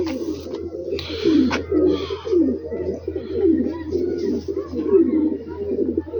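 Pigeons kept in a loft in Rawalpindi in the evening coo repeatedly in close, rhythmic rolling calls, with a faint low hum underneath.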